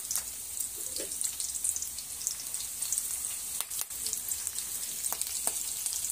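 A small onion, finely chopped, fries in hot oil with curry leaves for a drumstick curry, giving a continuous close sizzle dotted with scattered light crackles and pops.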